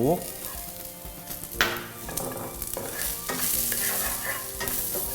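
Mushrooms for a vegetarian stir-fry sizzle in a hot wok, the steady frying hiss broken by repeated sharp scrapes and clinks of a spatula being stirred against the metal.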